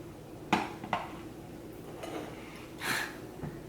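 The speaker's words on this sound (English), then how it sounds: "I kind of want to pull one out with a spoon and take a look at it." A spoon clinks against a tea cup while fishing out a melty marshmallow from frosted cereal flavoured tea, with a few close, sharp taps and soft scraping, with no one talking.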